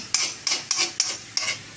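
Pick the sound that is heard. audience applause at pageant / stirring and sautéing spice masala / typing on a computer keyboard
stirring and sautéing spice masala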